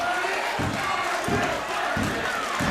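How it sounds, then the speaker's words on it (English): A wrestling crowd at a Brisbane live event cheers and chants loudly, in rhythmic surges of noise roughly every half second to second. "The crowd begging the Crusader to make his way and get the tag"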